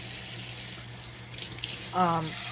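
Hot water runs from a kitchen tap to soak dried chiles de árbol, a steady close hiss of flowing water with a brief brighter splash near the end.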